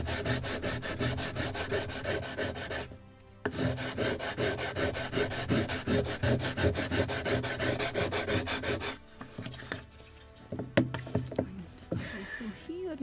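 Sandpaper rasps over PVA-glued wooden planking on a Midwest kit model of a Muscongus Bay lobster smack in steady, close, rhythmic strokes, pausing briefly and then continuing with lighter scrapes, small knocks and some talking.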